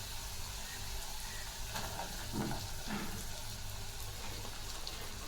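Green chillies frying in oil in a pan as flat beans are about to go in, giving a steady, moderate sizzle with a few brief stirring scrapes and no speech.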